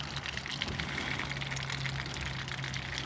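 Water running from a camper water line, a steady faint splashing stream with a low hum underneath, continuous and unbroken, no talk.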